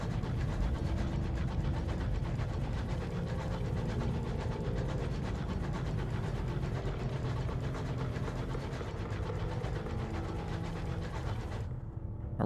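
A tentacled locomotive engine in the game Sunless Skies gives a loud, steady, low rumble that drones without a break, then thins out abruptly near the end.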